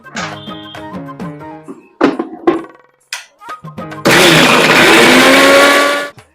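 A kitchen mixer grinder grinds ingredients for a gravy, starting with a sudden loud, steady whirring roar that lasts about two seconds and then cuts off, after some brief tonal sounds.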